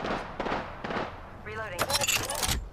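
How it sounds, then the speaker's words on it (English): A shooter video game's gunfire cracks out in several sharp bursts, mixed with an electronic character voice and game effects, close and fairly loud. "Firing!"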